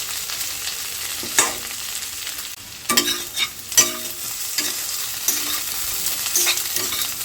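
Potatoes fry in hot oil in a pan, a steady sizzle broken by several sharp scraping bursts as a spatula stirs and turns them, close and clear with no talking.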